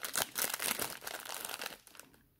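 A small plastic packet of square-hole red seed beads crinkles close up in a run of quick rustling bursts that taper off into near silence at the end.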